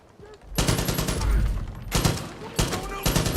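AK rifle fire in Far Cry 5, loud close bursts of rapid automatic gunfire in several clusters with short gaps between them.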